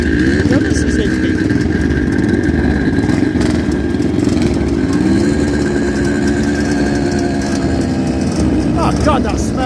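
A vintage Suzuki motorcycle at a club hillclimb runs loud and close, its engine droning steadily throughout with rising revs, while people talk nearby.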